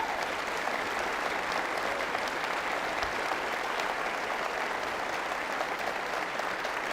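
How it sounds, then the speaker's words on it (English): An audience applauds after a debate on whether the God of the Bible exists, a dense, even clapping that holds steady for several seconds without pause. "please give a round of applause to both the participants"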